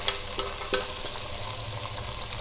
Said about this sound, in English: fry them for